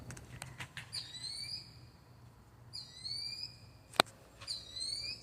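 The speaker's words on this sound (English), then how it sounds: "That gosh darn bird's at it again." A bird in the outdoors gives a shrill, rising whistled call three times, each sweeping upward like a car alarm, with faint distant chirps and a soft background hum between calls.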